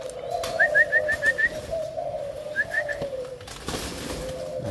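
A pair of young spotted doves give soft, repeated cooing calls in short rhythmic bursts over a steady background hum, close by and moderately loud.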